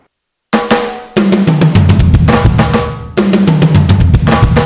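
Pearl e/MERGE electronic drum hits with the ambience set to maximum wet, drenched in heavy reverb, each beat smearing into a long wash that fills the space, loud and with no voices.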